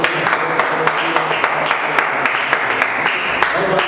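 Congregation applauding at the close of a church service, a steady dense patter of many hands clapping throughout with sharper individual claps standing out, moderately loud and continuous.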